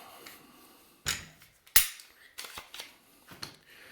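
The slide pops off a Glock G19 pistol during disassembly with two sharp, close metallic clacks a moment apart, followed by lighter clicks of handling.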